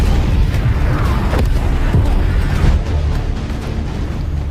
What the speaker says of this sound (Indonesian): pihak Rusia segera mundur disusul dengan hujan rudal yang menggembur Mike dan pasukan Ukraina.